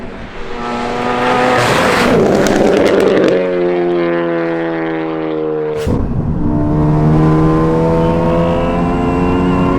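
A straight-piped, methanol-injected 350 bhp Ford Focus ST roars loudly up through the revs, cuts off with a sharp crackle on a gear change, then climbs again, close and deafening with no voices.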